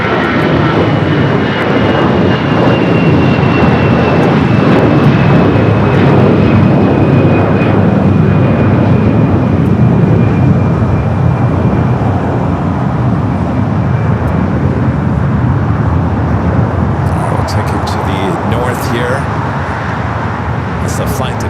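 An Airbus A321 departs Los Angeles LAX bound for Chicago O'Hare, its engine roar loud and continuous across the whole stretch, steady broadband rumble with a faint high whine, slightly easing toward the end.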